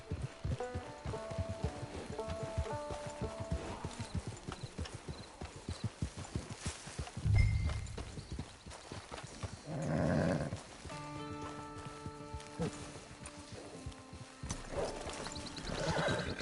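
A horse in Red Dead Redemption 2 Online clip-clops at a steady walk near a camp, with a couple of snorting neighs breaking in midway and soft game music tones running underneath.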